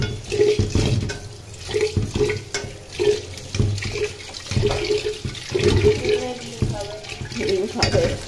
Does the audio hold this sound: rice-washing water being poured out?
yes